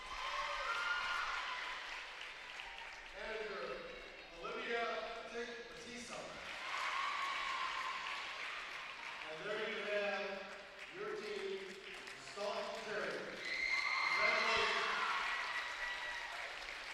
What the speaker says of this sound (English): Staunton fans applaud their squad.